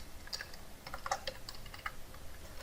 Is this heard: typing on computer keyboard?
yes